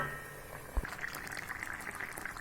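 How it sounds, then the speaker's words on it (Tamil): Broccoli masala curry bubbling in a pot on the stove, a steady soft simmer with small pops and gurgles throughout and one brief knock near the start. "இப்போ நல்லா இன்னும் ஒரு கொதி விட்டுடலாம்."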